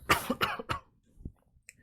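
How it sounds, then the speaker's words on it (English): A short run of rough throat clearing, three harsh bursts in quick succession, then a faint softer grunt, close up and alone. "I just need to clear my throat"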